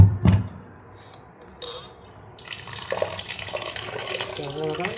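Tap water runs and splashes in a sink while dal is rinsed, starting with a brief splash and settling into a steady trickle and pour, with a voice talking briefly.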